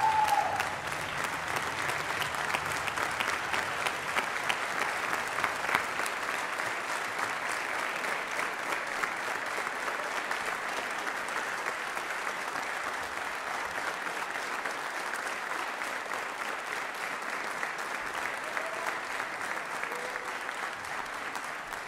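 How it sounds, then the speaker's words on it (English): An audience at an awards event applauds in a long, steady roar of clapping that holds at an even level throughout, with no talking on top. "Everyone, will you please join me in a round of applause"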